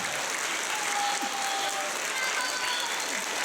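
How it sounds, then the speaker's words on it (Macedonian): Audience applause at a children's film academy event with a religious theme, a continuous even roar of many hands clapping, moderately loud and filling the room without pause. "Еден голем аплауз за Мајката Божија која сите вас ве закрилува."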